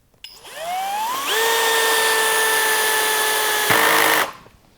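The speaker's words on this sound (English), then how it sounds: "If we go to setting 2 and drive that same style drywall screw," A SKIL PWRCORE12 cordless hammer drill on clutch setting 2 spins up with a rising motor whine, holds a steady high-pitched drone while driving a drywall screw, then a brief clutch clatter comes just before it stops, close up and with no voices.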